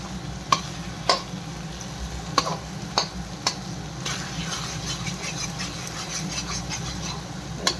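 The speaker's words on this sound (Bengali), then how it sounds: "ডিমের ভাজাটা ওর মধ্যে হয়ে যাচ্ছে" Egg fries in a pan of chowmein with salt and chilli, making a steady close sizzle broken by several sharp taps of a spatula against the pan.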